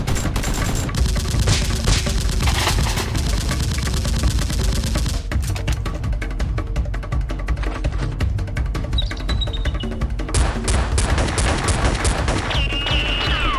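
Nerf guns firing in a staged SWAT-versus-criminals mock battle, heard as loud, rapid bursts of shots running almost continuously, like a busy firefight, with no talking.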